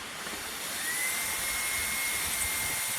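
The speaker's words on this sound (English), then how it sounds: "I'm going to take the 1/2 inch bit and carefully drill it." A power drill with a 1/2 inch bit bores through a plastic cap in one steady, high-pitched whine that holds level for a few seconds, loud and close, with no talking.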